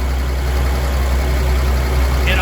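A 226 engine in an old Willys truck idles steadily after new spark plugs and a fuel filter, a loud, continuous low rumble close by with an even, unbroken drone and no voices.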